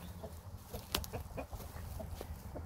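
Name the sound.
chickens clucking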